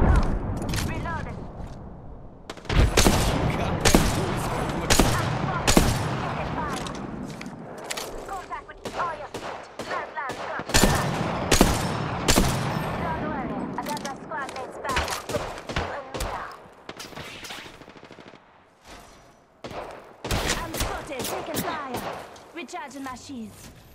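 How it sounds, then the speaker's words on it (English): Apex Legends gunfire: rapid bursts and volleys of shots crack loudly and repeatedly for most of the span, dense and close, mixed with game voice lines and mechanical clatter. "Opening fire."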